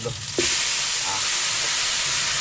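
Snakehead fish (dalag) dropped into a pan of sautéed aromatics sets off a sudden loud, steady sizzle that continues alone after a brief quieter moment.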